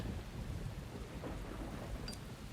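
Steady heavy rain pours with a low thunder rumble underneath, continuous and close, in the rainy parking-lot setting of the Deadly Premonition video game.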